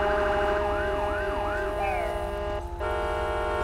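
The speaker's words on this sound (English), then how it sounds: "Okay, we have ambulance coming" An ambulance siren in the video game GTA 5 wails and yelps in rising and falling sweeps over a steady tone, cutting out briefly before the tone resumes.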